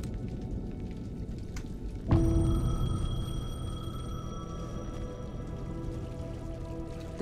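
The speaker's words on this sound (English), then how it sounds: "The payphone was ringing." In the video game Alan Wake 2, a payphone starts ringing after about two seconds of low rumbling ambience, a bright, sustained electronic tone that carries on steadily to the end.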